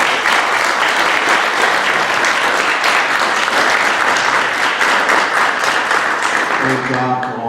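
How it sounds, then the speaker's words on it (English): A school board meeting audience gives a steady round of applause for the kids and their parents. The dense clapping stays loud and even throughout, then thins out and fades at the very end. "Let's have one more round of applause for the kids and their parents."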